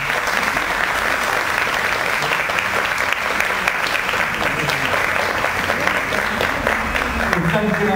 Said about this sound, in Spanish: una cosa a propósito del aplauso que recién recibiste de la gente